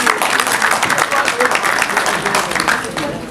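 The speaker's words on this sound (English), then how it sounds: "we can give her a round of applause" A crowd claps in sustained, dense applause, with voices mixed into the noise throughout.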